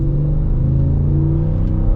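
A Ford Tremor pickup with a Coyote V8 engine accelerating on an empty road, heard from inside the cab as a steady, loud low engine drone with a smooth rising hum.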